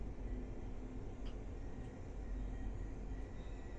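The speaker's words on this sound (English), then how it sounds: "Soviet train over here." A Soviet train rumbles past, heard from aboard Russia's Sapsan high-speed train as a steady low, muffled roar with a faint whine, even and continuous throughout, no one speaking.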